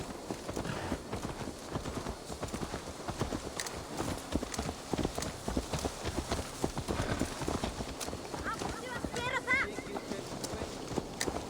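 Horse hooves clip-clop in a video game, a steady run of hoofbeats on hard ground with occasional snorts, under a voice talking.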